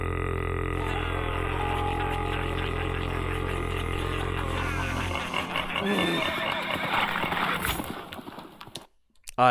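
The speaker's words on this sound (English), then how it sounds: "you hear the whinny of the horse" A horse whinny sound effect inside a cover song, rising over sustained music and fading out near the end, loud and prominent amid the instrumental mix.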